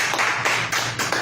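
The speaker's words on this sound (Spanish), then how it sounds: "Dile un fuerte aplauso a Cristo." A church congregation applauding Christ at the close of a Wednesday service, a dense burst of many hands clapping together in pulsing waves, loud and close, with no voices over it.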